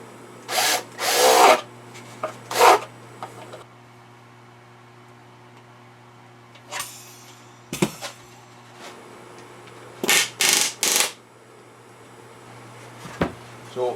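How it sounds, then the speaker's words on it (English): A drill-driven countersink bit enlarges countersinks in a Piper Super Cub wing false spar patch, giving several short, close whirring bursts separated by quiet pauses. "I'm going to go ahead and increase the size of those countersinks"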